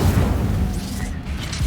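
A fire spell, Incendio, is cast in Hogwarts Legacy: a loud, sustained rumbling whoosh of flame with a deep booming burst underneath, lasting nearly two seconds.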